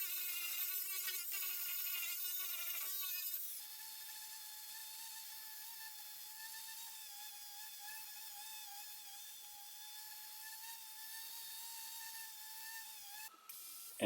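Angle grinder and Rotex sander smoothing the rounded edge of a 220-year-old copper beech slab: a steady high power-tool whine runs throughout, louder and busier for the first few seconds, then settling into a sustained drone, close by and alone.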